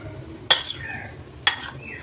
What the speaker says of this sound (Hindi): अब हम इन तमाम मसालों को अच्छी तरह से मिक्स कर लेंगे।